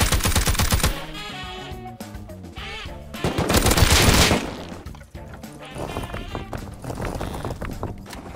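Gunfire in the survival game Rust, bursts of rapid automatic shots mixed with footsteps and movement, loud and close, coming in clustered volleys with brief lulls between them.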